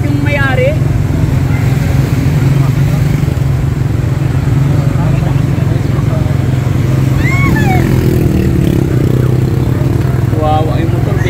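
A motorcycle engine revs in floodwater with a loud, steady, rough roar, while several voices talk over it throughout.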